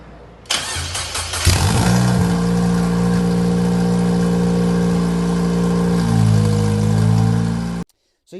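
An Indy RX5 left-hand-drive kit car with a Mazda 1.8 engine and a Super Mad Max exhaust cranks and fires on its first start, then idles loudly and steadily with a slight rise near the end before cutting off.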